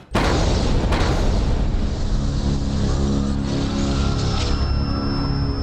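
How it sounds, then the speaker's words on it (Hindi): A loud, sustained bomb blast in Old Delhi with a heavy low rumble that starts abruptly and keeps roaring without fading, dense and close. "पुरानी दिल्ली में एक ऐसा धमाका हुआ जिसमें एक बड़ा नरसंहार हुआ"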